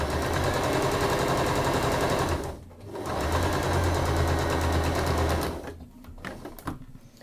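A domestic sewing machine runs steadily while stitching the lining of a simple Japanese-style bag, its rapid needle chatter loud and close, pausing briefly near the start and stopping toward the end with a few irregular clicks.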